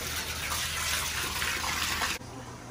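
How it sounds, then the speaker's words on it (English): Water gushes steadily into a large 240-gallon, eight-foot freshwater aquarium being filled, a close hissing pour that drops abruptly to a softer trickle near the end, with no one speaking. "we have the first few gallons of water being added into this tank"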